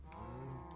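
A single low, drawn-out moo comes from a cow in a Minecraft farm pen in the Enigmatica 6 modpack, fairly quiet and alone.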